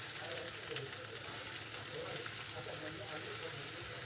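Onion and green chillies sauté in oil in a pan while a Malvani-style bitter gourd dish is prepared, giving a steady, fairly quiet sizzle that runs without a break.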